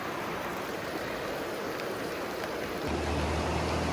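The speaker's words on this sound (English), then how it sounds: "Starting to rain on us pretty good" Rain comes down at a riverbank during a spring fishing trip, a soft steady hiss of drops under faint outdoor noise, joined by a low constant hum toward the end.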